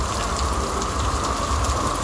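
Dense, steady rain hisses and patters close by on a hard surface, unbroken and even throughout.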